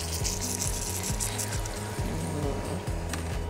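Water hits a hot pan of melting sugar, hissing and sizzling steadily, with low rhythmic scraping and stirring underneath, busy and close throughout.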